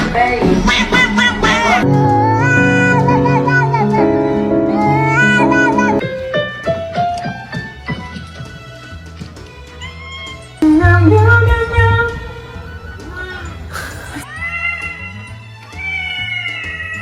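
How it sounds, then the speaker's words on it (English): A cat meows repeatedly in drawn-out, wavering cries, with other yowls and short noises scattered among them, all close and fairly loud. "Let me hear a meow."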